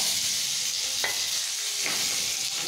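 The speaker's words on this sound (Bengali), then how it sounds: "আলুটা দিয়ে দিলাম তেলের মধ্যে, সিদ্ধ আলু একটু ভেজে নেব" Steady sizzling of boiled potatoes frying in hot oil, with a couple of brief scraping stirs, no voices.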